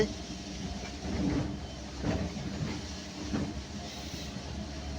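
Carriages rumble and hiss steadily as a train pulls into Bardhaman station at night, with faint rhythmic clacks over the rails and no voices.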